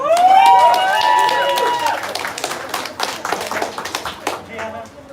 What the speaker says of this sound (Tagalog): Hoy, palakpak naman kayo dyan!